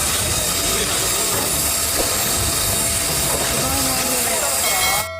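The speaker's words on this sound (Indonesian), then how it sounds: "Kereta api uap" A toy steam locomotive gives a loud, continuous steam-like hiss with faint squealing, whistle-like tones. It stops abruptly at the end, and there is no clear speech.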